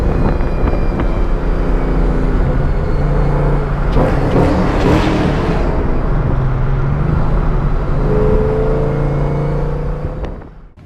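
A Camaro fitted with a DiabloSport tuner driving, its engine droning steadily close by and rising in a swell of acceleration midway, then fading near the end with no talking.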